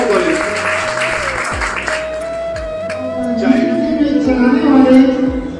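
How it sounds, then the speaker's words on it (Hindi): An audience applauds, the clapping swelling louder toward the end, with a steady electronic hum and a voice underneath. "मैं चाहता हूं आप सब तालियां बजाकर स्वागत करें"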